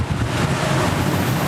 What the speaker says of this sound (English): A lot of big waves.